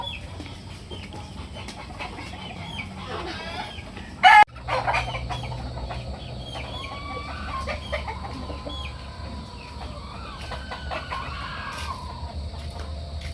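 A fighting rooster with a long tail clucks and calls in a farmyard. There is a sharp, loud burst partway through, followed by scattered clucks and other bird calls over a low background hum.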